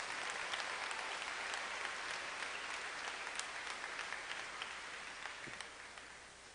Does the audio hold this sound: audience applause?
yes